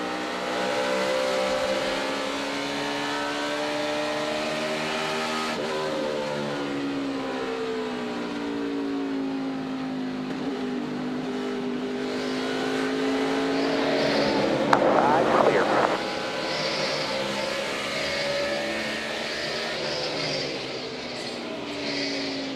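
A NASCAR stock car, Dale Earnhardt Jr.'s, heard from onboard at the 2012 Subway Fresh Fit 500, its engine droning steadily and loudly throughout, the pitch rising and falling through gear changes.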